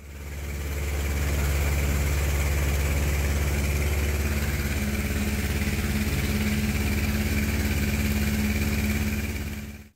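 A Lycoming IO-360-A1B6D aircraft engine on a test run, a loud, steady deep drone held close throughout, its firing pulses blending into a continuous roar with no voices.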